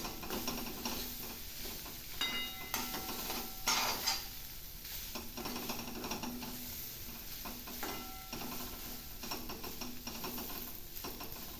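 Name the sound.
stirring kozhukattai mixture in pan on low flame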